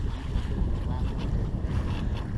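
A sailboat under way on Lake Erie, 5 to 10 miles offshore near Dunkirk, NY: a loud, constant rush of wind and water against the hull with heavy microphone buffeting.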